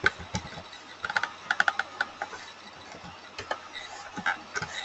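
Close, light clicks of typing on a computer keyboard, in irregular bursts of keystrokes with short pauses, over a quiet background hum.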